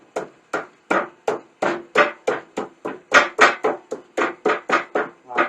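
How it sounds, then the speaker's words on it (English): A mallet taps a bearing shaft into place on a Salt Dogg SHPE 2000 spreader's auger box, about fifteen sharp, evenly spaced knocks in a quick steady rhythm, close and clear. "Still going to tap on it with a mallet to try to get these things all the way closed down."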